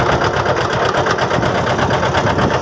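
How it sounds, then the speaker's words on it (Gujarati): A tractor engine runs steadily nearby, a loud, rapid, even chugging rumble with a constant rhythmic knock and no pauses or speech. "ગામમાંથી આપણે ટ્રેક્ટર લઈ આવ્યા છે ને જે છે સુનિલ ભાઈની વાડીએ"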